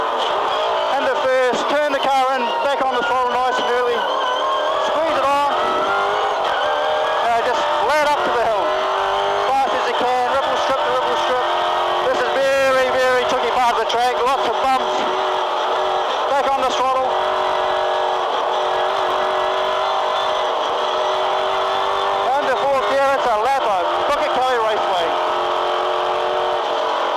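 A V8 touring car races at Pukekohe, its loud engine revving hard and rising in pitch through acceleration and gear changes, with a commentator talking over it throughout.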